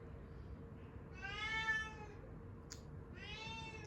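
A pet cat meows twice in a drawn-out, plaintive way, with a pause between calls, close by over a low steady background hum.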